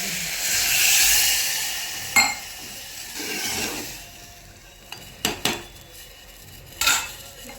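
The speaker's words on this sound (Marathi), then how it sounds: "आता मी म्हणजे पाणी टाकते ग्लास" Water poured from a glass hits a hot pan of pav bhaji with a broad sizzling hiss that fades over a few seconds. Several sharp metallic clinks of the glass and utensils against the pan follow.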